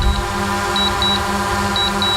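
A DJI Mavic Pro remote controller sounds its low-battery warning at 10% charge: high, thin beeps in quick pairs repeat over a steady low hum.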